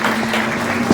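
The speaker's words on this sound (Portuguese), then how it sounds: "Uma salva de palmas para as pessoas que nos visitam hoje" Applause from a church congregation welcoming visitors, a steady broadband patter of clapping filling the whole second with a brief louder burst near the end.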